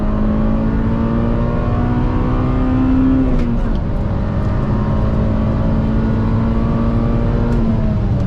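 An Acura RSX pulls hard in third gear from about 40, the engine note climbing steadily, loud and close from inside the car, with a brief dip around a shift point before rising again.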